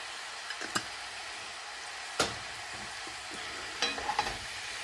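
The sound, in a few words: cabbage cooking down and being stirred in a pan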